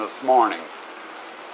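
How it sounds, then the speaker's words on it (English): Steady rain falls over a campsite set up with tents, a soft continuous hiss with no wind, while someone speaks briefly at the start. "Still don't have any wind, but we're getting rain."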